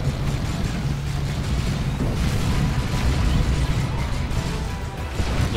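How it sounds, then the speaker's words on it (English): Dense, rumbling plasma cannon blasts and crackling bursts in a Warhammer 40,000: Dawn of War 2 battle overlap continuously, a loud chaotic barrage of explosions with no clear pauses. "some friendly fire from the plasma cannons there"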